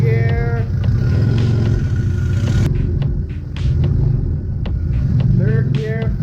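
A car's front engine idles and revs steadily in second gear, a low rumbling drone with brief rising whines from shifting, and someone talks over it.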